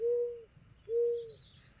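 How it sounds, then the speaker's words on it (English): A bird calls close by with two clear, steady, hooting notes, each roughly half a second long and separated by a brief pause, against quiet surroundings. "I don't know how long I listened to the bird."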